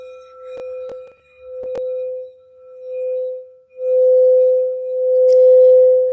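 A singing bowl rings a sustained high C, a pure steady tone that swells and fades across several strikes, with a few light taps along the rim, close and clear.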